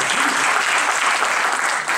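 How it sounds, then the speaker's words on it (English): Loud, steady applause from a crowd at a children's discourse at a Hindu temple in Minnesota, continuous clapping filling the space with no voices over it. "one more claps for those children"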